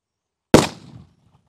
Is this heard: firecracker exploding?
yes